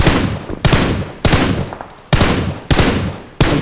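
Loud, rapid bursts of automatic gunfire in the video game PUBG Mobile, five or six dense volleys close up with no gaps between them.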